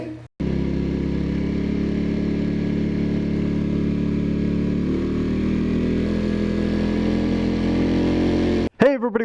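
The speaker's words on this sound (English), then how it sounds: "this is my homemade dynamometer for small engines" A small engine runs steadily on a homemade kart dynamometer, a loud, buzzy drone close by that holds nearly constant for several seconds before cutting off sharply near the end.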